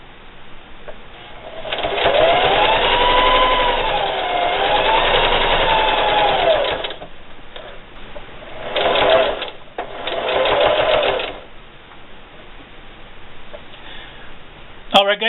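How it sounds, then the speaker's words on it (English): A sewing machine stitches a can koozie in several close, steady bursts with short pauses between them, and a voice talks over part of the sewing. "you're going to stop with your needle down, lift your presser foot, spin your project, and just keep sewing."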